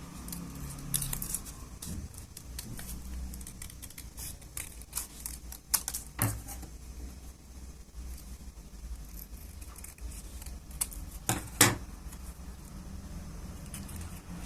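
Scissors snip through folded paper to cut out small shapes, giving scattered short crisp cuts with light rustling and handling noise between them, close and fairly quiet, with no talking.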